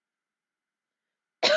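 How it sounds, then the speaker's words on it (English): A single short cough bursts out at the very end after a stretch of silence, close and fairly loud. "That was just me coughing because there's stuff going around."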